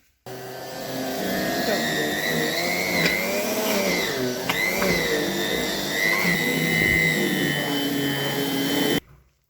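A blender whirs steadily for several seconds, its motor pitch wobbling slightly as thick buckwheat batter churns, then cuts off abruptly.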